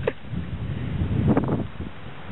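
Wind gusts outdoors on a terrace buffet the microphone as a continuous rough, muffled rush with a few louder surges and no one speaking.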